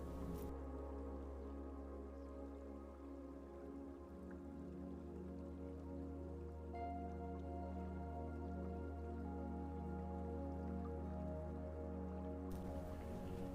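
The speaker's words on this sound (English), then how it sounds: "Here the water flow south is considerable." Water drips and trickles past long-abandoned canal sluices on an Irish waterway, with a considerable flow heading south, heard as a faint steady patter under a low constant hum.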